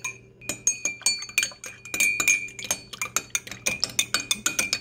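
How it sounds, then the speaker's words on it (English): A spoon stirs honey into a mug of peppermint tea, clinking repeatedly against the ceramic in quick, uneven taps that run close and clear throughout, with no speech. "Make sure to stir in both directions occasionally."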